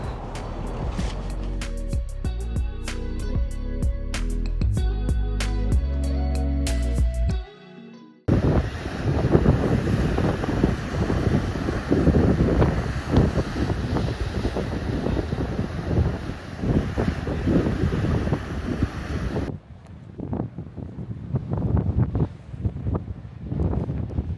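Strong wind and rough, surging sea along a rocky lighthouse coast in Nova Scotia, a loud continuous roar and wash of waves under gusty wind buffeting the microphone, no voices.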